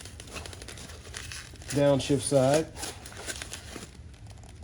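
Crinkly plastic packaging of a steering wheel paddle part rustles and crackles close by as it is pulled open, while someone speaks briefly in the middle.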